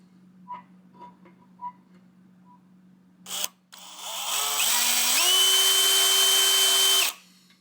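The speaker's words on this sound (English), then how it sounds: "I'm going to take my drill" A few soft ticks, then a power drill whirs up and runs steadily at high speed for several seconds, close and loud, before stopping abruptly.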